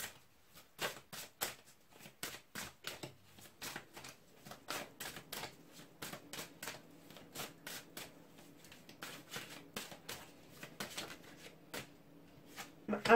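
Tarot cards are shuffled and drawn in a quiet room, producing a steady series of crisp riffling flicks and slaps at close range, with faint soft rustling between them.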